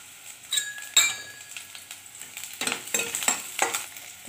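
Garlic dropped into a hot pan for veg Manchurian, close-up stirring and frying with spoon clinks against the pan and a light sizzle building over a few seconds, no voices.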